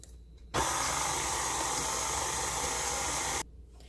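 An electric stand mixer blending egg into cookie dough runs as a steady, loud whirring hum that starts abruptly, holds for about three seconds, then cuts off.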